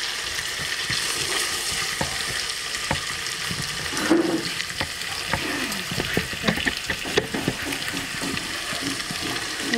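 Garlic, ginger and cumin paste frying in a pan for a village-style mutton biryani, a steady broadband sizzle with scattered stirring clicks and a brief louder splutter partway through.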